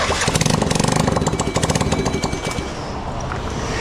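A motorcycle engine is started and revved without using the clutch, a loud, close, rapidly pulsing rattle that rises and falls before easing toward a lower idle.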